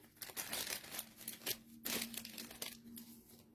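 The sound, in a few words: cardboard box crumpling and collapsing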